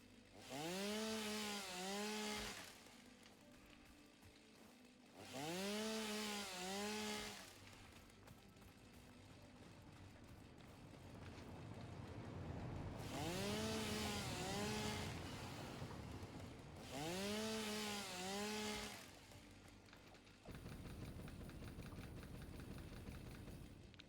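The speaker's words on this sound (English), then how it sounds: "Chainsaw, please. I only want your cactus." Chainsaw cutting cactus in the game Satisfactory: four loud revving bursts with idling between, a steady engine drone underneath, no talk.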